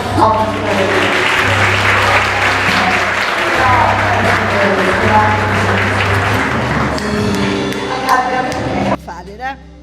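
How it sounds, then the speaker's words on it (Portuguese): Church congregation clapping together in steady, dense applause for several seconds, close and loud, with an organ or keyboard chord sustained underneath before the clapping thins out near the end. "dê uma salva de palmas para ele"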